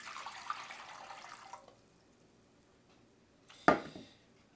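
Three and three-quarter cups of water pour into a pot for coq au vin on a stovetop, a rushing splash that fades, then one short, sharp pour or splash near the end, close and alone.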